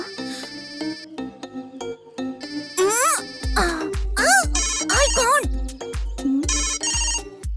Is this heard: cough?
no